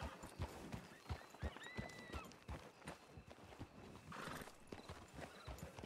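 Horse hooves clip-clop at a walking pace in a ranch setting, a quiet, fairly regular series of knocks with a brief neigh partway through.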